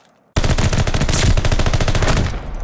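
Rapid automatic gunfire in a 4v4 online shooter bomb match, a loud, close burst of evenly spaced shots that starts abruptly and runs without pause for over two seconds.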